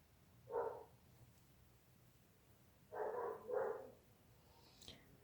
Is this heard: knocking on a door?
no